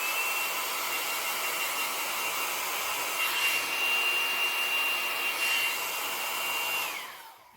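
A small electric dryer blows air over freshly painted nails, making a steady close whirring hiss with a faint high tone that winds down and stops at the end.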